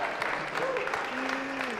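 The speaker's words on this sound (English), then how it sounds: "Let's give a big round of applause for me" Audience applause at a lecture by a speaker, a dense, steady wash of clapping from a seated crowd, with a faint voice briefly rising over it.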